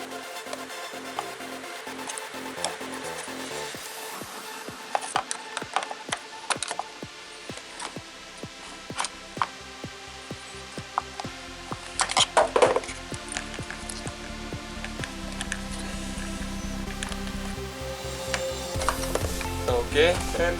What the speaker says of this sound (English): with a flat screwdriver you need to get there and kind of like pry it open